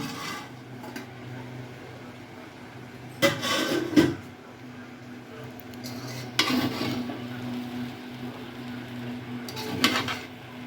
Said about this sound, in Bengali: এবার ঢাকনা তুলে দেখে নেব